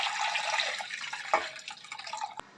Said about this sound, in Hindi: 3 से 4 कप पानी के ऐड करेंगे।